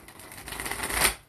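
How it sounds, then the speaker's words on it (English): Tarot cards being shuffled by hand, a loud, close riffling flutter that builds to a sharp burst near the end before quickly stopping. "We're going to shuffle these cards."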